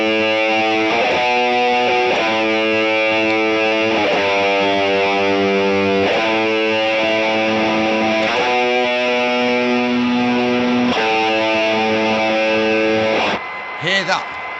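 Single notes on an electric guitar run through three stacked pedals ring out one at a time, roughly every two seconds, each thick with distortion, washy sustain and a steady noise hiss; a short noisy burst closes the passage.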